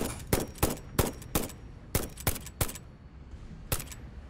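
A rifle fires in Satisfactory, about ten loud, sharp shots spaced roughly a third of a second apart in uneven bursts, with a brief pause midway.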